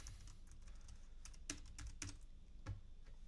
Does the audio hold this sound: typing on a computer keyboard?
yes